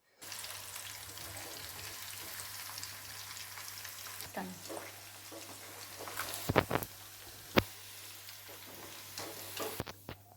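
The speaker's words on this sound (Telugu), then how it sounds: "సో ఇలానే మిగతా అన్ని పీసెస్ కూడా ఫ్రై చేసేసుకోవాలి" Chicken 65 pieces fry in a pan with a soft, steady sizzle and a low hum in the background, broken by a few sharp clicks and pops near the end.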